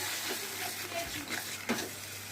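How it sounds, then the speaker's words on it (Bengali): Meat cooks down with chilli, salt and turmeric spice paste in a pan, a soft continuous sizzle broken by a few scraping stirs, close and fairly quiet. "মাংসটা একটু কষে নিচ্ছি"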